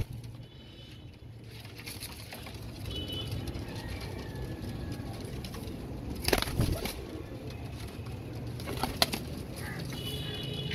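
Pigeons coo softly at a loft, heard faintly beneath wing flaps and scattered handling noises, with a few sharp taps throughout.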